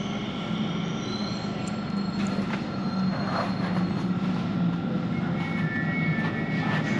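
A London Underground train comes to a stop at the Whitechapel station platform, a loud, steady rumble of wheels and motors with faint high squeals from the rails, and no voices.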